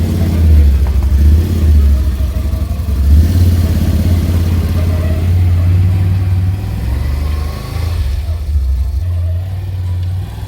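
A snow plow vehicle engine running loud and close, a low steady rumble with slight rises and dips in revs throughout, no voices.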